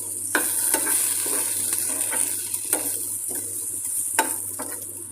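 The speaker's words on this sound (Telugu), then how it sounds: "ఇలాగ ఒక ఐదు నిమిషాల పాటు వేయించుకోవాలి" Capsicum and potato pieces frying with coriander powder, chili powder and garam masala in a pan, giving a continuous bright sizzle with regular stirring scrapes close by and no talking.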